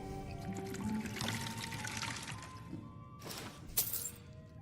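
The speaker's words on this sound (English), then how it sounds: "I'd like to refill water." In Skyrim, water is poured to refill a container: a steady pouring trickle runs for a few seconds, followed by a couple of sharp clinks near the end, quiet and close.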